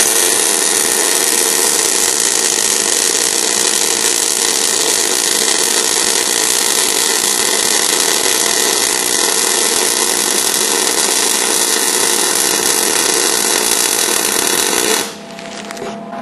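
MIG welding with an Eastwood welder gives a loud, steady crackling hiss that runs unbroken for about fifteen seconds, then cuts off abruptly near the end.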